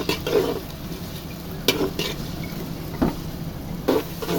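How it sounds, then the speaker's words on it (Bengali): Whole garam masala with bay leaf, cardamom and cinnamon stirred in a hot pan, a low sizzle under several sharp scraping strokes of a spatula against the metal, close and distinct. "এখানে দিয়ে দেব গরম মশলা, গোটা গরম মশলা, তেজপাতা, এলাচি, দারচিনি, এগুলোকে ভালো করে নেড়ে চেড়ে দেব"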